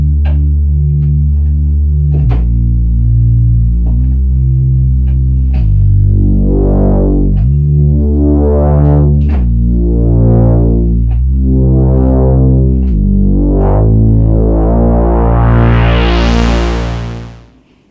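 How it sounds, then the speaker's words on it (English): A thick, detuned reese bass from a Moog Matriarch synthesizer drones loud and close, with resonance raised, stepping between low notes with gliding pitch, then sweeping up brightly before fading out. "It's called a reese bass."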